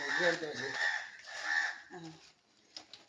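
Several harsh crow caws in quick succession, fairly close, during fish cutting at a house, with a brief human voice mixed in near the end.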